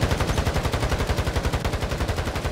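Rapid automatic gunfire from a first-person shooter game rattles in a fast, even stream of shots, loud and continuous with no pauses or talk.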